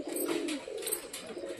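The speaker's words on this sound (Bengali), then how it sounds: "এই আমাদের পায়রা এখনো ফ্লাই করে যাচ্ছে সুন্দরভাবে" Pigeons coo close by in a soft, low, rolling burble, with faint wing flutters and outdoor background noise.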